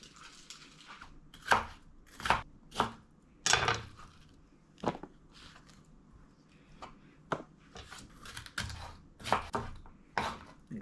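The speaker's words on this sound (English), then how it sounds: "let's cut up the red bell pepper" A knife chops a red bell pepper on a cutting board in a home kitchen, producing sharp separate taps in an irregular rhythm, some louder than others, close by with quiet pauses between them.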